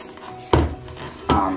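An egg is cracked against a bowl of Christmas chocolate chip cookie dough: two sharp, close taps about three-quarters of a second apart, each with a short ring-out, in a quiet kitchen.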